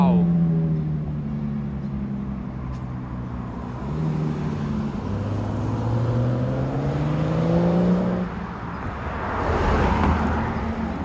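A Ferrari LaFerrari supercar revs and pulls away on a city street in Beverly Hills, its engine note rising and falling through several sweeps, with people talking excitedly over it.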